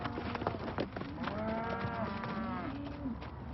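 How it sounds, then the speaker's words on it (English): Young grass-fed cattle on a farm moo in a long, loud lowing call close by, with a shorter moo before it and scattered knocks and shuffling around them. "This cattle's kind of new, still getting used to having humans around."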